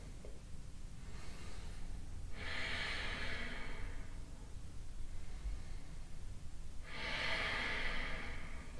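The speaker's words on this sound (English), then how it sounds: "Deep breathing here." Slow, deep breaths during a vinyasa yoga flow, two long airy exhales spaced several seconds apart, close and clear over a quiet room hiss.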